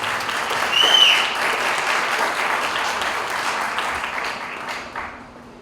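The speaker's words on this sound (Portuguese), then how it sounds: "Uma salva de palmas." A seated audience at a lecture event on liberalism claps continuously, a dense, even wash of applause that swells early and fades out toward the end.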